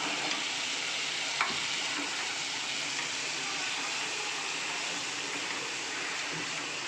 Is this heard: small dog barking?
no